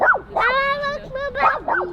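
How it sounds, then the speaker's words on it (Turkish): Dogs in a residential housing complex bark and whine in a quick run of yelps and drawn-out howling cries, loud and close, with no talk over them. "Bizim sitede çok fazla köpek varmış."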